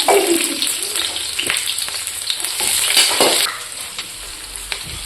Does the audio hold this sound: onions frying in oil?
yes